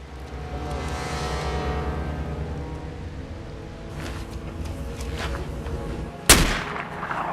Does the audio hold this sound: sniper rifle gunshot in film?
yes